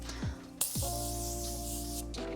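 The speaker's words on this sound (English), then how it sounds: "It's time to go in with some setting spray." Setting spray misted over a face during a makeup routine: a sharp hiss bursts out near the mic and holds steadily for about a second and a half, over a faint background hum.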